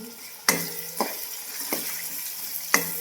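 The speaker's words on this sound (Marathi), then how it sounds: "परत फोडणी दिली जिरी मोहरी" Cumin and mustard seeds hit hot oil for a tempering, giving three sharp sizzling bursts that each crackle and fade, close and moderately loud, with quiet pauses between them.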